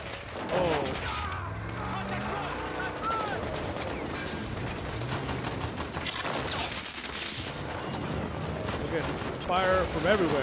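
Rapid gunfire bursts and booming shots fill a war drama ambush scene in a town, a dense continuous barrage with people talking and reacting over it.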